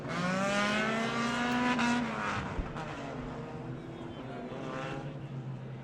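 Four-cylinder dirt track race cars with standard transmissions race at Victory Lane Speedway in Manitoba, Canada, their engines droning and revving with rising and falling pitch as cars pass, fairly close and loud, with a quieter stretch later.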